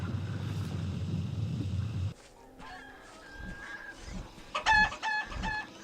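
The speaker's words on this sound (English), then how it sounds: "Chickens." Fowl squawks and clucks from Heroes of Might and Magic IV, a few sharp calls rising in the second half after a dense low rumble of game ambience, moderately loud with no talking.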